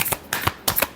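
Tarot cards give a brief close-up shuffle, a few crisp riffling flicks in about a second, with no talking.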